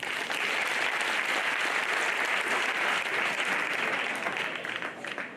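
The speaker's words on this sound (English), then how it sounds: "Can you give God a mighty hand clap?" Audience at a secondary school inter-house debate competition claps loudly and steadily for about five seconds, a dense wash of hand clapping that tapers off slightly at the end.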